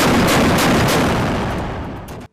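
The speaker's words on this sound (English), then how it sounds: "The weapon can be fired in both the single-shot mode and in automatic mode." Mk 38 25mm Bushmaster naval chain gun fires a loud, dense burst of rapid booming shots at close range, continuous for about two seconds before cutting off abruptly, with no talk.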